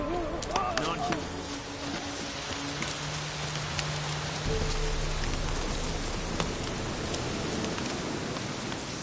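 Steady rain falling in The Witcher 3, a dense hiss of drops on surfaces with scattered game sounds and brief tones over it, continuous and moderately loud.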